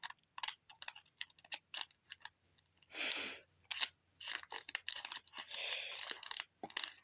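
Scissors snip and cut through material, likely body pillow cover packaging, in a series of short, irregular crisp clicks and rustles, with a longer tearing or crinkling stretch midway and near the end, close and fairly quiet.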